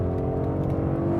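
A 2015 Ford Mustang GT's base V8 engine holds a steady, deep rumbling drone with a throbbing low-end pulse, heard close and continuous for a brief moment.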